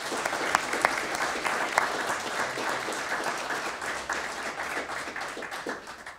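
Audience applause fills a hall at an electricians' graduation ceremony in Tallinn, a dense, steady burst of many hands clapping throughout, loud and close with no pauses.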